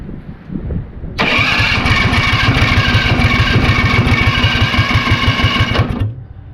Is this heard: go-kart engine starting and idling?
yes